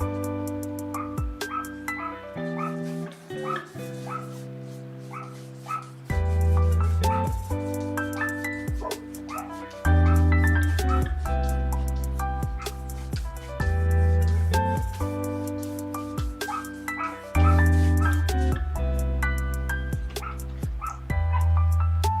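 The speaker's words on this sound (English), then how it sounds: "I hear all the dogs barking in the neighborhood" Neighborhood dogs bark, yip and whimper in an excited, steady stretch that runs loud and nearly unbroken, mixed with sustained tonal sound.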